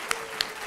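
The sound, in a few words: applause for the three-minute thesis presenters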